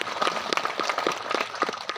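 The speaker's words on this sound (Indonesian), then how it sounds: "Mari kita berikan tepuk tangan." An audience applauding at a local gathering in Ngada Regency, a dense patter of claps close by and moderately loud, steady across the short stretch with no talk over it.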